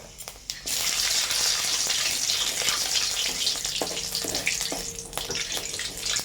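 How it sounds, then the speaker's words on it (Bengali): Panch phoron spices tempering in hot oil for an egg curry with potato and pointed gourd, a loud hissing sizzle erupting after a short pause, with scattered pops and crackles throughout. "তেল গরম হয়ে গেছে বন্ধুরা আমরা এবার ফোড়ন দেবো প্রথমে পাঁচ ফোড়ন দিয়ে দেবো"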